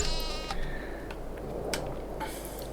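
A few short sheep bleats from the video game Western Wilds ring out over a steady low hum, with soft clicks scattered between them.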